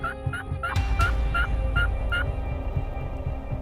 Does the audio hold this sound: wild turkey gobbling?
yes